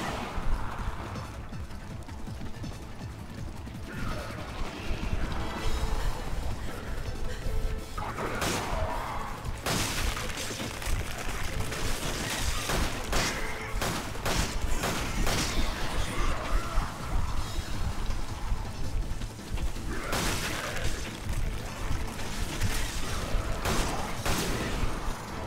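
Resident Evil 5 Mercenaries gameplay brings repeated gunshots and sharp impact bangs scattered through a dense, continuous mix of game noise and effects, with crashes and mechanical clicks over about twenty-five seconds.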